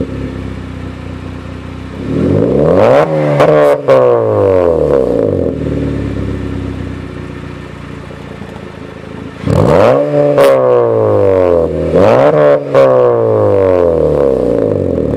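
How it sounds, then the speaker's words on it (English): A 2014 Honda Civic Si exhaust revs in two bursts, each a sharp climb and fall in pitch, separated by a stretch of steady idle. The engine sounds close and loud, and no one speaks. "See if I can get a little exhaust clip."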